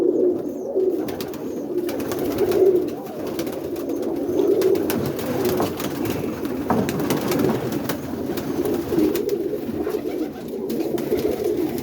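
Roller pigeons coo steadily in a loft, a low continuous murmur of overlapping soft calls from several birds at close range, with no speech.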